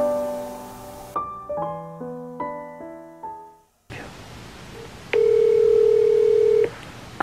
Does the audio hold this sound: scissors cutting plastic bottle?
no